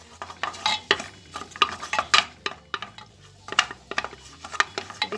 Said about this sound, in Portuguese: A gente vai caramelizar aquele açúcar.